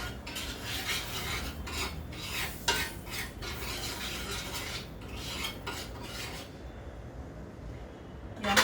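Egg masala being sautéed in plenty of oil in a pan, continuous sizzling with repeated scraping strokes of a spatula stirring the mixture, close and steady, no talking.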